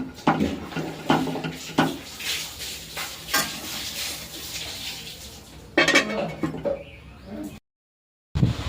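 A pot of home-cooked curry with fresh coriander on top gets covered, with several sharp metallic clanks of lid and utensils over a low simmering sizzle in a small kitchen.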